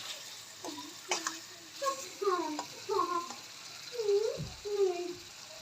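Chicken breast sizzles in a pan, browning over the flame, a steady soft frying hiss running beneath a voice talking throughout.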